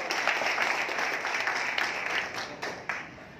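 Audience applause at a speech, a dense burst of clapping from a crowd that swells and then gradually thins out over a few seconds.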